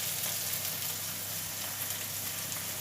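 Beef meatballs fry steadily in a pan with a dense, even sizzle that fills the short stretch at moderate level, with no voices over it.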